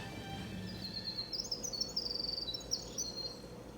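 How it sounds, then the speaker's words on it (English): Birdsong chirps and tweets sound faintly outdoors near a pond, with light, scattered calls over a steady low background murmur. "Birds"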